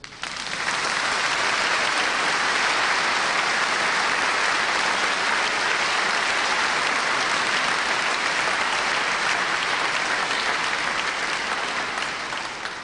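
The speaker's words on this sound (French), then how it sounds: "Est-ce que vous voulez bien les applaudir?" Sustained applause from a large congregation honoring a diocesan group: dense, steady crowd clapping, loud and continuous for the whole span with no pause.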